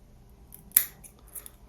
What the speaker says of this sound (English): Now we can cut off this piece, the aluminum foil